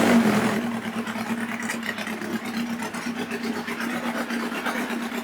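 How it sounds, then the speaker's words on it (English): Yamaha XJR1300 motorcycle engine idling steadily just after being started, a loud close continuous throb with a slightly uneven beat while cylinder gauges are being set up, with no talk. "so that's the bike running"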